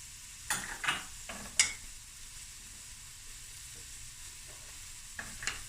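Onion and garlic fry quietly in a pan, giving a soft, low sizzle broken by a few brief stirring scrapes and clicks, close but faint.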